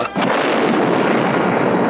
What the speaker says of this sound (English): Oh my god, it's a bomb!